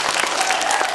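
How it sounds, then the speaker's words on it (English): Schoolchildren at an elementary school author and illustrator visit burst into brief, loud, close applause, a dense patter of many small hands. "Please give yourselves a round of applause."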